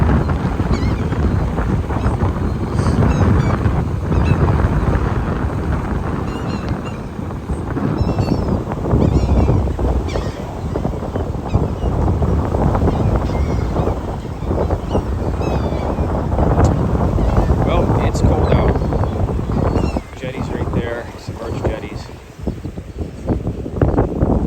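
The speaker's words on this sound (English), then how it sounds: "Let's pull this boat off the dock." A 1994 Broward motor yacht pulls away from a dock in Charleston, a steady low engine rumble mixed with wind buffeting the microphone and water noise throughout, with faint voices at times.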